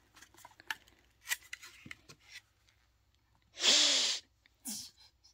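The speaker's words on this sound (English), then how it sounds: "I don't think you have to sniff that hard." Someone sniffs hard and loud twice at a hazelnut latte Scentsy scent, close breathy snorts after a few quieter rustles and small noises.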